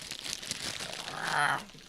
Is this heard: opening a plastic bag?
yes